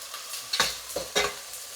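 Onions, green chillies and ginger garlic paste frying in a pan, a soft sizzle punctuated by three quick stirring scrapes of a spoon, close and fairly quiet.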